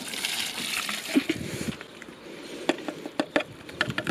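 Nematodes are tipped from a container into water for allotment pest control, giving soft pouring trickles and light splashes followed by a few scattered drips and taps, close and fairly quiet.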